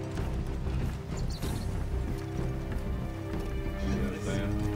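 Horse hooves gallop steadily through Assassin's Creed Origins gameplay, a continuous clip-clop rhythm under a dense game soundscape, with a voice talking over it.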